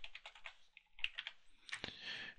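Someone types quickly on a computer keyboard in short close bursts of key clicks, with a louder clatter near the end.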